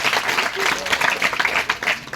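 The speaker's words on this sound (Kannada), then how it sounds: "ಸರಿಯಾದ ಚಪ್ಪಾಳೆ" A group of students claps after a correct answer at a school quiz competition, a brief burst of applause, close and fairly loud, with some voices mixed in.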